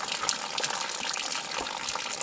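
Spring water flows straight from a mountain source in the Knuckles range, a close, steady, full rushing and gushing sound with no voices.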